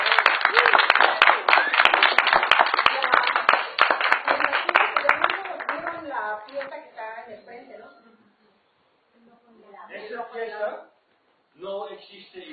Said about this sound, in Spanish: ¿quieres aplaudir?